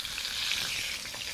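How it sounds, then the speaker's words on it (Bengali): Potatoes and papaya for a duck curry frying in hot oil in a pan, giving a steady, close, continuous sizzle with no voices. "মাংসর আলু আর পেঁপেটা কষে নেব।"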